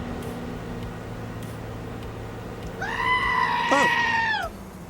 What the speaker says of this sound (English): Did you all hear a goat scream or not?